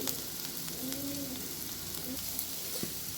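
A bottle gourd curry mixture fries in a pan, a soft, steady sizzle with faint stirring scrapes, quiet and close, no voices.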